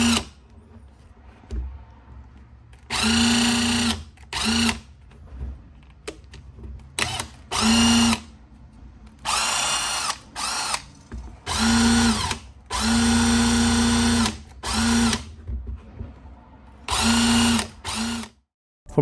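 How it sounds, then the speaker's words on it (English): A Litheli 20V cordless 1/2-inch impact wrench running in repeated bursts of varying length, a loud buzzing whine with a steady motor hum, each burst stopping abruptly before the next, close up with no talk. "this is how the impact wrench sounds."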